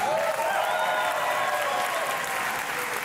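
Loud, sustained applause with cheering from an audience at a pitch competition event, a dense wash of clapping holding steady throughout with whoops rising above it.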